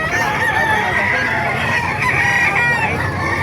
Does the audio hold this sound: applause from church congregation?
no